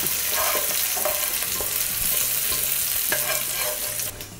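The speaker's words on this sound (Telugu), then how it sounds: "పప్పులో ఇలా పోపు వేసుకోవాలి." Hot tempering poured into spinach dal, a loud crackling sizzle with a few scraping stirs, fading slightly at the end.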